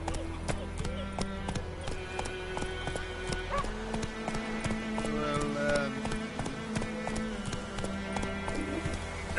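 Roach, a horse in The Witcher 3, gallops in a steady rhythm of clip-clopping hooves throughout, with a short whinny, game music and a voice speaking over it.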